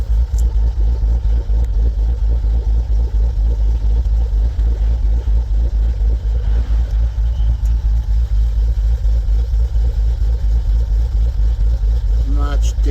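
A rebuilt 2014 SRT with its standard exhaust idling close by, a deep, rhythmic, pulsing burble that holds steady and loud throughout, with a brief sharper rasp near the end.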